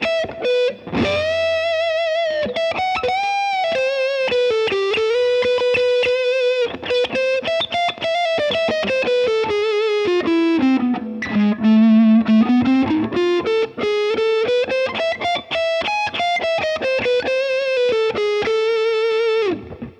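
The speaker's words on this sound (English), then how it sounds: "I'm running through an OCD right now, by the way, OCD distortion, full tone." Les Paul electric guitar on the neck pickup, driven through a Fulltone OCD distortion pedal, plays a sustained, saturated lead line that swoops down and back up, loud and close with no talking.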